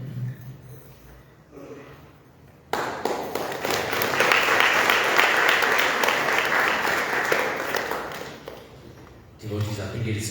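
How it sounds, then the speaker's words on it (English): At a Saiva Siddhanta Sangam 85th anniversary gathering, a spoken voice gives way to a swell of audience applause for Swami that builds, holds for several seconds, then fades as talking resumes. "to give Swami another round of applause for this"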